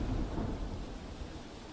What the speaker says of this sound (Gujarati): અમદાવાદમાં 2 ઇંચ જેટલો વરસાદ વરસ્યો છે